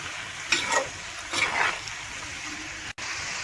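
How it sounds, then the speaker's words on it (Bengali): Food frying in a pan gives a steady close sizzle, with two louder scraping stirs about a second apart and no voices. "এবার এটাকে একটু নেড়ে নেব, এটাকে একটু ভাজতে দেবো।"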